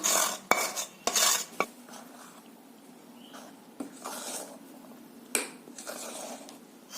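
A ladle scrapes and clinks against a pot while hot sugar syrup is stirred into rice flour for adhirasam, with sharp metallic knocks at the start and quieter scraping after.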